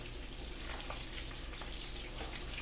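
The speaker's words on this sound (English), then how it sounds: "we got them last 3 fish frying" Steady, soft sizzling and crackling of fish frying in oil in a pan, a continuous fry with faint pops, heard close and without talk.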